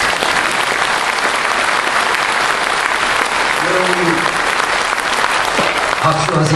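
Sustained, even applause from a crowd fills the whole stretch, with a few voices faintly audible underneath near the end.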